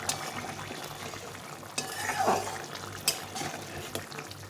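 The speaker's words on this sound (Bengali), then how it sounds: "দিয়ে একটু ভালো করে নেড়ে চেড়ে আবার ফুটিয়ে নিতে হবে" A potol aloo curry simmers and is stirred in the pot, a soft bubbling bed broken by a few utensil knocks and scrapes; there is no talk.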